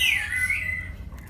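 Bird calls in an aviary where oriental magpie-robin chicks hatched, a single loud sweeping whistled chirp up close, fading into a low background hum.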